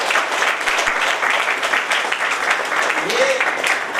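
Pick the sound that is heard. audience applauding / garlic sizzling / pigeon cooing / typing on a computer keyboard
audience applauding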